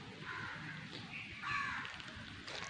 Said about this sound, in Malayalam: കാക്ക വരുന്നു.